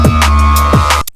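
A harsh, buzzy drum and bass synth lead made in Serum 2, with gritty distorted harmonics and quick downward pitch drops, loud and alone, cutting off abruptly at the end.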